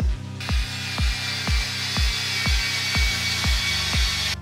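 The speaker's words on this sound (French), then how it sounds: "Papa, visse la plaque d'aluminium." A power screwdriver drives screws through a 1 mm aluminium plate into a kitchen wall, giving about nine rhythmic, evenly spaced whirring pulses over a steady background hum.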